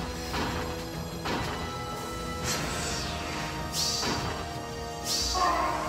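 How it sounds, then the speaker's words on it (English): A bolt tower is smashed apart in Fire Emblem Heroes Aether Raids, a series of heavy crashing impacts roughly every second and a half over continuous game music, with brief swishes between hits. "Duma destroyed that bolt tower."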